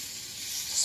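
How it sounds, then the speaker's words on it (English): Meat sizzling in hot oil in a flame-proof casserole, a steady close hiss lasting under a second. "wait for the sizzle"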